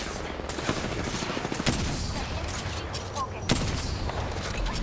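Gunfire in Apex Legends: a busy stream of rapid shots and scattered sharp cracks over a dense background of battle noise.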